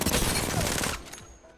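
Rapid automatic fire from an R-99 submachine gun in Apex Legends, a continuous loud burst of close gunshots for about a second that cuts off into a brief fading tail.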